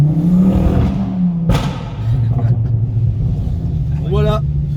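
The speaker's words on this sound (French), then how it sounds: "Le bruit 5 cylindres turbo, c'est sublime." A stage 2 tuned 2006 Ford Focus ST with a five-cylinder turbo engine rumbles deeply and revs, loud and close from inside the car, with a sharp transient partway through and a voice speaking over it.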